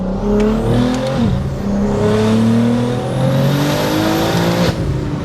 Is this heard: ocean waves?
no